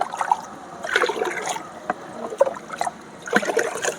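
Ordinary water is poured into a bucket of organic liquid fertilizer for plants, giving soft, uneven trickling and splashing in short bursts, close by with no talking.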